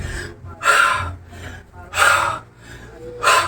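Heavy, rhythmic panting during a workout: three loud, breathy gasps about 1.3 seconds apart with softer inhales between them, close to the microphone and with no talking.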